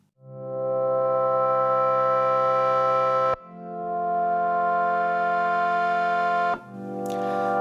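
Sustained synthesizer chords in equal temperament play one after another, three long held harmonies changing with brief breaks, bright and buzzy with no voices.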